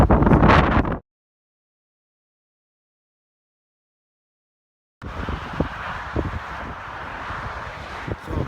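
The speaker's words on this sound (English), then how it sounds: "You can tell there's a little snow and the wind's blowing." Wind blowing across an open snowy hillside above a four-lane highway, a rough close buffeting roar on the microphone that drops out for several seconds and then returns as steady gusty noise.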